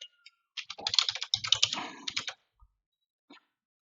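Quick burst of typing on a computer keyboard during a MySQL install on Windows, close and crisp keystrokes tapping rapidly for about two seconds, then a couple of isolated taps in silence.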